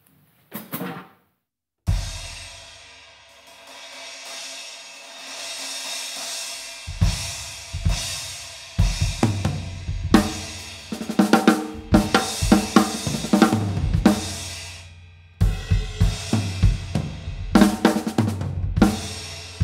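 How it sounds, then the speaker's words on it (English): Sabian AAX Ozone Crash 16-inch cymbal struck repeatedly, with bright washy crashes that ring out and decay, then a series of loud hits layered with drum strikes in an irregular, busy pattern, close and with no talking. "we've got Sabian AAX Ozone Crash 16-inch, which is again something a bit different"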